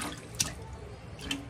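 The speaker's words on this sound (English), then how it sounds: "She's washing dishes." A small child splashes water in a kitchen sink while washing dishes, making a brief close watery slosh with a couple of sharper splashes and drips, without talking.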